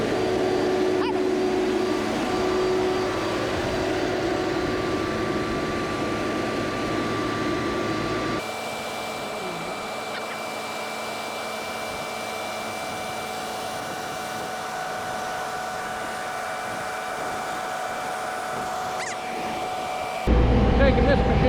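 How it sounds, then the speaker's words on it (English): A heavy three-track machine with all tracks steered drives along, its engine a steady loud drone with a high whining tone. The pitch and level shift abruptly partway through and again near the end. "Taking this machine to the other job"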